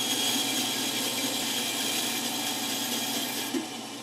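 A power tool cuts a wooden fishing lure body in half, making a steady, close, continuous grinding and sawing noise that holds evenly throughout and eases off only at the very end.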